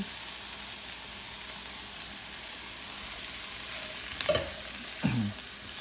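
Green, yellow and red bell peppers frying in a pan for diner-style corned beef hash, a steady close sizzle throughout, with a couple of brief stirring scrapes near the end.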